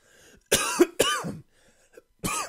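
Three sharp, close coughs in quick succession, the last after a brief pause, with no talking.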